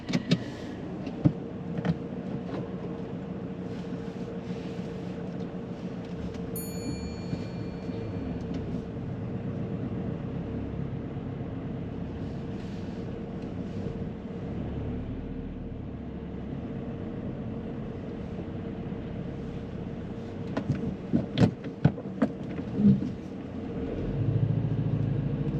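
Car interior while reversing and driving slowly out of a car park on a mock driving test: low steady engine and road rumble, a few clicks and knocks, brief thumps near the end.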